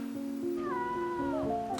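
A pet cat gives a long, drawn-out meow that rises and then falls, close and clear over a faint background hum.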